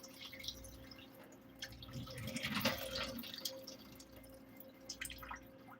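Tap water runs in a kitchen sink while something is rinsed under it, a soft, continuous splashing with a brief louder surge in the middle, heard alone and fairly faint.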